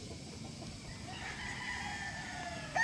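A young banded rooster, a stag, clucks faintly amid steady background noise, with short low calls and no talking over it.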